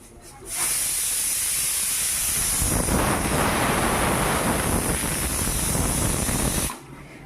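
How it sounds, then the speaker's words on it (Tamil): A steady, loud hissing rush of steam escaping from a pressure cooker whistle runs continuously for several seconds, starting and stopping abruptly, with no talking. "முதல் விசில் வந்திருக்கு"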